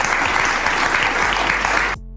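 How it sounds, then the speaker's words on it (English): A studio audience at a live TV talk show claps steadily in a dense, loud wash of applause that cuts off abruptly near the end. "Everyone in that room is clapping and laughing it up at whatever Chris Christie just said."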